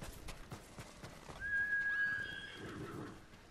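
A horse in Ghost of Tsushima neighs loudly in a long rising whinny, with a few hoof clops before and after it and no talk over it.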